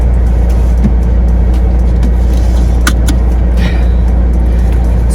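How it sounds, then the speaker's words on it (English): A car engine runs with a loud, steady low rumble throughout, with brief faint clicks and knocks on top, and no voices. "Always get nervous when I start this car."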